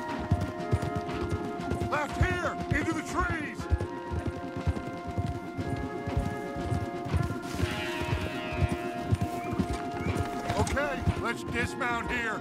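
Rapid rhythmic hoofbeats of horses galloping in Red Dead Redemption 2 continue throughout, with occasional whinnies and music and voices layered over the pounding.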